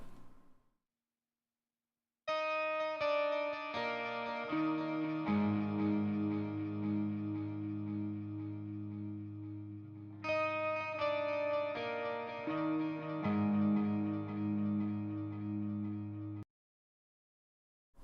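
Unprocessed electric guitar riff double-tracked in high and low octaves, a clean melodic phrase of sustained notes played twice with a short pause between, no voices.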